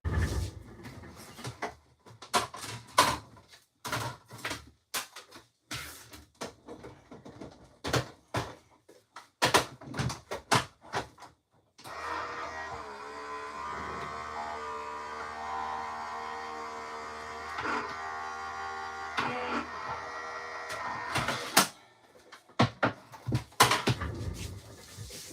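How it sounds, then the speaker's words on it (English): An electric embossing machine draws a card through an embossing folder. Scattered clicks and knocks from handling give way to a steady humming motor whir lasting about nine seconds, followed by more handling clatter. "I'm going to go run this through the embossing folder."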